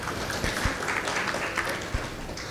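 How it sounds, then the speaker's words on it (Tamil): An audience claps throughout in dense, continuous applause at a talk on AI tools, moderately loud and filling the room. "நிறைய வந்து நீங்கள் வந்து ஒருத்தர் பரவாயில்ல கைத்தட்டலாம் எல்லாருமே."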